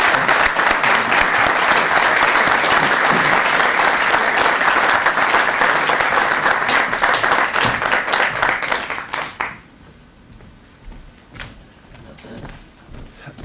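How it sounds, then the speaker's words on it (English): A lecture audience gives a host a sustained round of applause, with dense steady clapping for about nine seconds that tapers off into a quiet room. "I'd like to ask you specifically to give him a round of applause for his generosity tonight"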